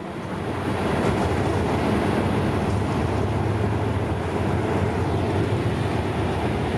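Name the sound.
GEK 4018 diesel locomotive arriving at Chachoengsao station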